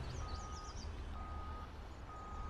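Steady rhythmic reversing beeps from a farm vehicle in Farming Simulator 19, a repeating electronic tone sounding over a low engine rumble.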